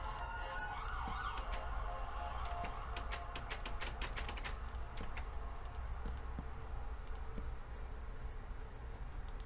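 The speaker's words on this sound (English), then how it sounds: "Oh, there's a lot of sirens." Several emergency sirens wail outside during a Minecraft survival session, distant and layered beneath a steady stream of game sounds and keyboard clicks.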